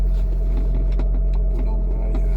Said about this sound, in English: The exhaust system is a Record Monza, which you now hear.